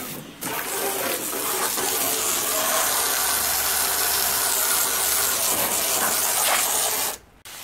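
A Gilmour heavy duty sprayer nozzle sprays water at fairly strong pressure onto garden plants. A loud, continuous hissing spray runs steadily for about seven seconds and then cuts off abruptly.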